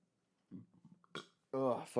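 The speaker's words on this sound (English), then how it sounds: "The fucking burps are killing me." A close belch rumbles out, followed by a person talking briefly; quiet room otherwise.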